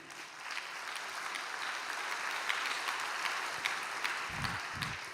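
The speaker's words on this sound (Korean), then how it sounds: "박수 한번 올려드립시다." An audience at a church gathering applauds steadily for several seconds, a dense even wash of clapping heard from within the room, with a brief low thump near the end.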